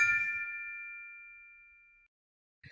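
A single bright bell ding rings out clearly and decays smoothly over about two seconds, followed by silence and a brief faint noise at the end.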